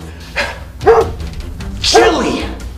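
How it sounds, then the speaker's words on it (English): A neighbor's dog barks two or three times at moderate distance, each bark short and sharp, standing out over a room tone with a voice nearby. "The neighbor's dog."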